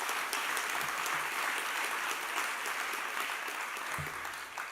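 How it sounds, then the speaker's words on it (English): A literary festival audience applauds prize-winning writers at an evening honoring Earl Lovelace's 90th birthday, a broad, even wash of clapping from many hands that holds steady throughout. "Would you give them a round of applause, please?"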